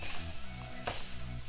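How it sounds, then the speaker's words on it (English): Chopped onions sizzling and browning in a hot pan, a steady close frying hiss with faint stirring scrapes. "And I've already chopped up my onions, so I don't have to worry about that. We'll just let this brown."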